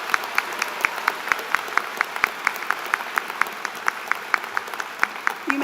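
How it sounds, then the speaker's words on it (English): A commencement audience applauds master's graduates, with one loud, evenly timed clap standing out near the front over a softer crowd patter, continuing steadily throughout. "Let's give these scholars one more round of applause for this significant accomplishment."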